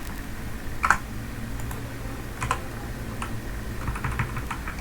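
Computer keyboard keys tapped in a few separate short bursts while working in an Excel spreadsheet, quiet and close, with brief pauses between the clicks and no talking.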